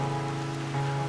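Continuous rainfall, a constant wash of falling drops over a steady tonal hum, unchanging and moderately loud for the whole moment.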